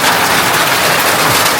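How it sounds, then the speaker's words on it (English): Heavy rain pours steadily onto a surface outside a house, a loud, dense, continuous hiss with no talk. "The rain is back. Right now we have nowhere to run, nowhere to hide."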